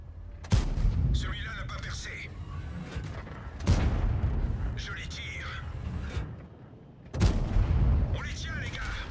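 Gunfire in a video game: three heavy shots spaced a few seconds apart, each a sharp loud crack that rolls into a booming rumble, with a voice speaking between them.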